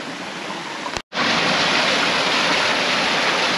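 A river rushes loudly and steadily right beside a hiking trail in the Paúl valley on Santo Antão, Cape Verde, a dense continuous roar of flowing water broken only by a brief cut near the start.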